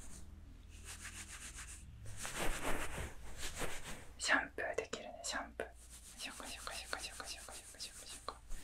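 Fingers touch and rub hair on a high-end binaural dummy head microphone, producing soft, close rustling and brushing strokes in uneven bursts, with quiet whispering in places.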